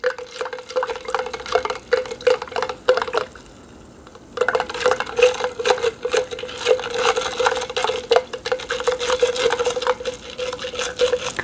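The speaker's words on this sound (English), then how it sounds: "That's the mixing sound. It's like the popcorn spinning all around." Popcorn kernels tumble and rattle around inside a container during a kids' dancing popcorn experiment, a close, busy clatter of rapid ticks that pauses briefly and then resumes.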